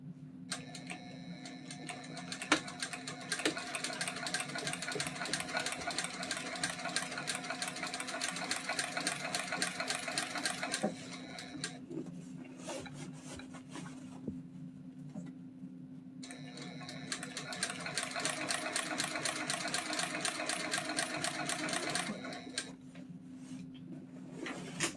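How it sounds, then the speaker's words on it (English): A sewing machine top stitches a rucksack at a 4 stitch length, running in two long rapid-ticking bursts with quieter pauses between, close and alone. "let's wrestle with this bag and get it top stitched"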